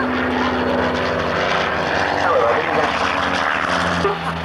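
Propeller aircraft flying consecutive loops at the 1992 RAF Coningsby airshow, a loud steady engine drone that swells and shifts pitch, with a commentator talking over it.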